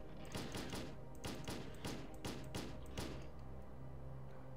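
Rapid bursts of gunfire in S.T.A.L.K.E.R.: Call of Pripyat, a string of sharp shots in clustered volleys over a steady low background rumble, with no talking.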